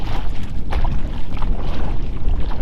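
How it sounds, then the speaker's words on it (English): Canoe paddled across water on a solo trip, giving steady splashing and rushing water noise up close with some wind buffeting, no talking. "I'm just paddling up to my first carry of the day"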